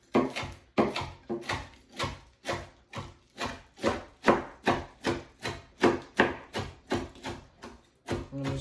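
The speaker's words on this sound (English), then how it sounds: "And I'm just going to chop it all up." A chef's knife chops cooked bacon on a cutting board in steady rhythmic strokes, about fifteen sharp knocks close by and evenly spaced, with no talking.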